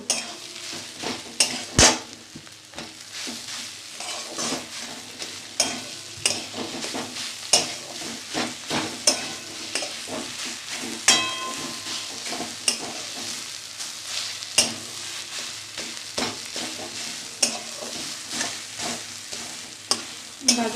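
Grated beetroot fries in oil with a little sugar in a pan, giving a soft continuous sizzle broken by frequent sharp scrapes and clinks of a spatula stirring against the metal, close up with no voices.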